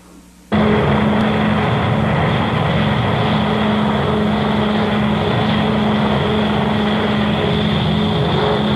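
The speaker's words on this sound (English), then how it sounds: "They have spotted an enemy aircraft, one B-29 heading west." A B-29 bomber in flight, a loud steady droning engine roar that starts abruptly and holds continuously with a constant low hum, no voices.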